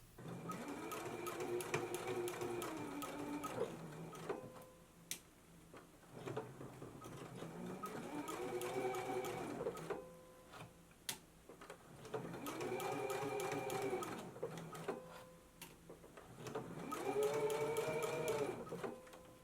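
A sewing machine stitches the facing of a McCall's 7330 jumpsuit in the ditch: fast, rhythmic motor whirring and needle clatter in four bursts of a few seconds each, separated by short pauses, close and fairly quiet.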